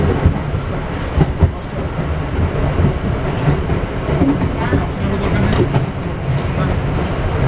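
An R62A subway train accelerates out of a tunnel portal on the IRT Flushing line, a steady loud rumble of wheels and motors with faint clatter throughout.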